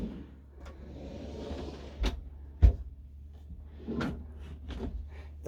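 Drawers in a Eura Mobil Integra 720EB motorhome slide and shut with a few sharp clunks and soft thuds, one knock standing out, over a low steady hum inside the vehicle.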